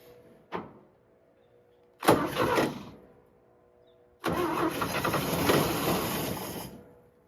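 A restored 1957 Chevy 210 with an uncleaned carburetor cranking and starting: a short click, then a brief cranking burst that dies, and after a pause a second longer cranking run that catches and keeps going, close and loud.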